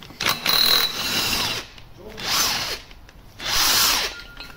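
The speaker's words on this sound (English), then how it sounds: "we'll just blast this out with the battery gun" A cordless battery impact gun works the bottom crankshaft pulley off a Vauxhall engine in three loud, close bursts of rattling hammering whine, with short gaps between them.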